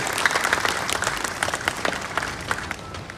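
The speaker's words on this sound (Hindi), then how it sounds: "जोरदार तालियां उनके लिए।" Loud, close crowd applause at an award ceremony honouring political dignitaries, with many hands clapping vigorously and unevenly for several seconds.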